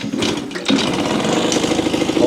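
A rebuilt Yamaha YSR50 mini street bike's small engine, previously suffering a high-revving problem from an air leak, sputters to life and runs with a steady, buzzy rattle close by, loud and without talk.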